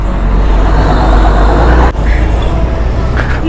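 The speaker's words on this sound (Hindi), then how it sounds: "काफ़ी ज़्यादा ट्रैफिक जाम रहता है यहाँ पर ना" Heavy road traffic in a congested jam in north India, with buses, cars and trucks. A loud, steady, close engine rumble fills the whole stretch, with a brief dip just before the two-second mark and a faint higher hiss later.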